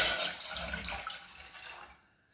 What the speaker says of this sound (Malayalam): ഒരു കപ്പ് വെള്ളം ഒഴിച്ചു കൊടുക്കാം